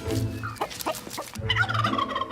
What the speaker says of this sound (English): 2 turkeys.